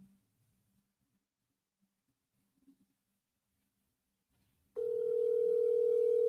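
Near silence with a few faint clicks gives way to a loud, steady ringback tone as a phone call to another number connects, holding unbroken to the end.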